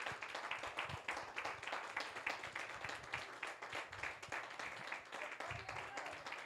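A church congregation applauds together, a dense, continuous wash of many hands clapping with uneven swells, heard from a distance and fairly faint.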